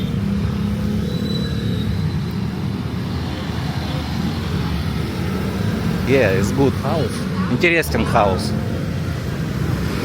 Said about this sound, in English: You see heavy traffic here. Always heavy traffic.